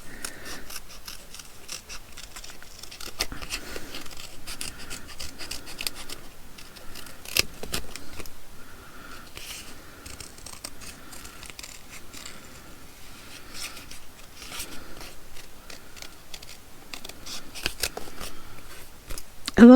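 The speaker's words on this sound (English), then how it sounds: "we're going to just kind of fussy cut around these, leaving a little bit of space" Scissors snipping closely around paper pieces cut out for a junk journal, a steady run of small crisp clicks and snips close to the microphone, with a voice talking quietly underneath.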